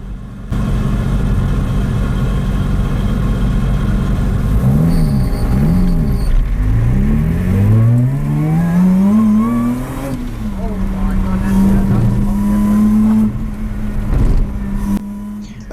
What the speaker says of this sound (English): we start out in first gear out of the pit exit.